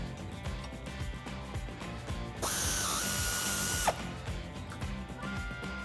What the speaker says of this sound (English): Using our 18mm socket and wrench,